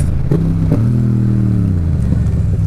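A motorcycle engine revving up and dropping back twice, loud and close, with a rising and falling drone over a rough idle.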